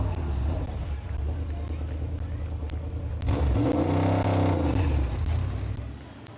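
Race car at Midvale Speedway revving loudly on a victory lap, engine note rising and falling as it passes close by, with a crowd and announcer talking underneath.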